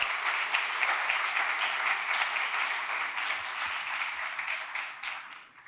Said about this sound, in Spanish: Los invito a darle un gran aplauso a nuestro invitado de hoy.